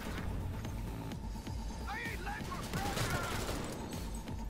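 Rapid bursts of gunfire from the player's gun in Cyberpunk 2077 crackle through a busy, loud combat mix with other game sounds layered over it.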